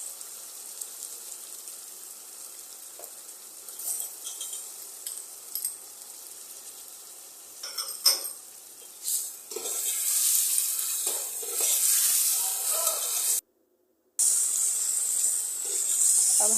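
Ginger, garlic and chopped tomatoes frying in a pan: quiet scattered clinks at first, then a rising bright sizzling hiss with stirring clatter, cut by a brief silent gap before the sizzle resumes.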